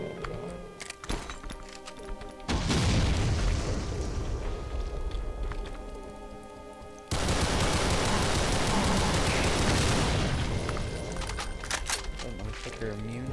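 Two large blasts in Brutal Doom, a first-person shooter, each a sudden heavy boom followed by a long rumbling roar, set among ongoing gunfire and game noise.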